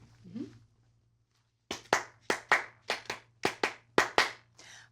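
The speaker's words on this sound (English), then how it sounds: "clapping out a simple iambic rhythm together" Hands clap out a simple iambic rhythm, short-long pairs of crisp claps repeated about ten times, close and clear over a low steady hum, with a brief voice sound just before the clapping begins.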